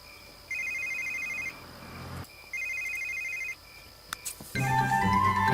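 Two trilling electronic telephone rings from The Sims 3, each lasting about a second with a pause between, followed by a louder burst of other game sound.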